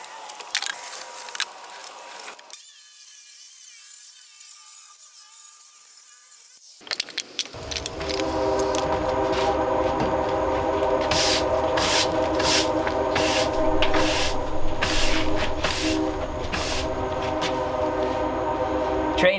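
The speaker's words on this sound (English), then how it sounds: "Train's here." A train passes steadily by a backyard shed under construction, a loud sustained rumble with a rhythmic clatter of wheels that builds and holds for several seconds after a brief quiet pause and some rubbing.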